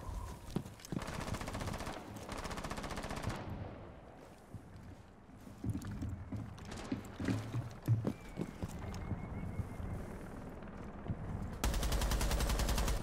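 Rapid bursts of automatic gunfire from a gun in the tactical shooter Rainbow Six Siege rattle out at the start and again at the end, with quieter in-game movement and clatter between them.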